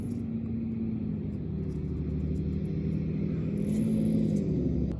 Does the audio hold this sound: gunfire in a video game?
no